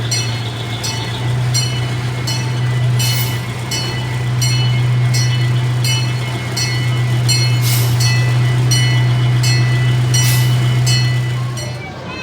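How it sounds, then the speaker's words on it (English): A small theme park train at Holiday World rolls along with a steady low rumble, wheels clicking in a loose rhythm over the track and faint squeals above, continuous and close for the whole stretch. "That was a fun little train ride."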